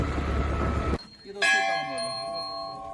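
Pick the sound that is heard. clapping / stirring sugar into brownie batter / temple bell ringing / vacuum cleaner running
temple bell ringing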